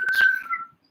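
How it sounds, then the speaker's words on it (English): A person attempting to whistle, producing a brief, breathy, wavering single whistled tone close to the microphone that fades out within a second. "Kind of sort of whistle a little bit, but not really."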